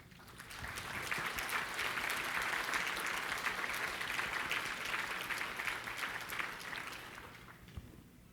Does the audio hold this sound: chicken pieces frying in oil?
no